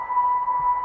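A voice imitates a sonar ping: one sustained, steady pitched tone with a glassy ring and reverb, held for about a second.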